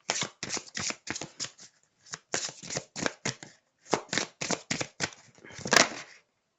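Oracle cards are shuffled by hand to draw a synchronicity card, a quick run of crisp riffling bursts in short rhythmic groups, close and clear with no talking.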